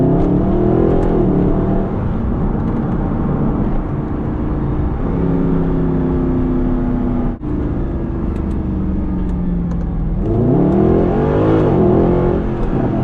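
A white Mercedes-AMG being driven in comfort mode, its engine revving loudly and steadily close up, the pitch climbing and falling through gear changes with a brief dip in the middle and a strong rise near the end.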